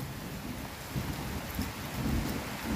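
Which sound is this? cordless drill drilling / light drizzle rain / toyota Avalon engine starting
light drizzle rain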